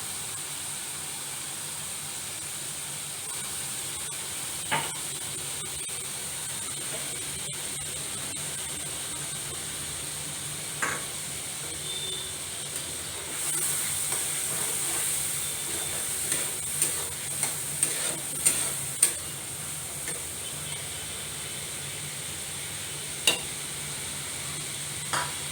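Masala for Bengali begun kopta, an eggplant dish, fries in a pan with a steady low sizzle, while a spatula stirs and scrapes in scattered taps that cluster together midway.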